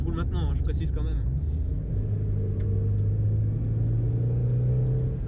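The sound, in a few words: Mazda MX5 NB car driving on ethanol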